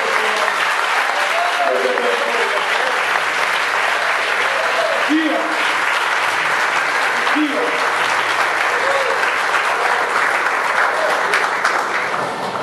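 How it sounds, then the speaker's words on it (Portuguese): Sustained loud applause from a congregation at a religious gathering, dense continuous clapping with occasional voices and cheers rising above it. "Aplauda ao Senhor pela vida."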